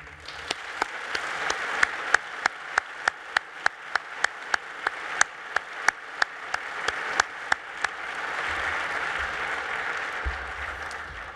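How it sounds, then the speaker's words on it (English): An audience at the opening ceremony of the 37th Space Symposium applauds in honor of General Thomas Moorman, a moderately distant crowd clapping with sharp individual claps standing out, tapering off after several seconds. "would you please join me for a brief moment of applause in the honor of General Thomas Moorman"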